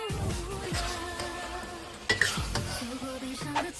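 Xinjiang big plate chicken being stirred in a wok with green and red peppers, onion and half a head of garlic, a low simmering sizzle with spatula scrapes and a couple of metallic knocks against the pan.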